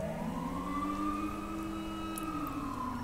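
Ambulance siren from the GTA 5 LSPDFR police game, a steady wailing tone sweeping slowly up and down, loud and continuous without talk.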